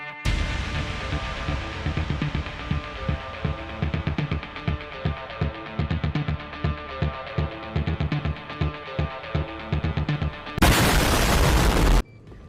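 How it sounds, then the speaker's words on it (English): Grenades going off in the game Guts and Blackpowder: a loud opening boom, then a long rapid string of sharp blasts and pops in an irregular rhythm, ending in a burst of harsh noise. "Grenades, these teeny tiny little balls blowing up"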